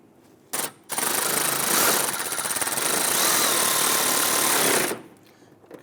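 A power tool drives screws into a 2008-2013 INFINITI G37 front bumper cover, one loud continuous whirring run of about four seconds after a brief start burst, close by.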